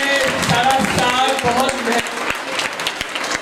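An audience at a school prize ceremony applauds loudly and continuously with dense clapping, while a voice speaks over the crowd.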